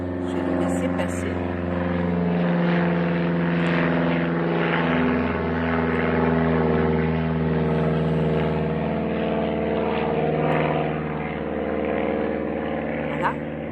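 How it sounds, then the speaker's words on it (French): A propeller airplane drones overhead for a long, steady pass, loud and sustained, while someone speaks calmly over it in French. "Pendant qu'il y a un avion qui passe, je vais le laisser passer."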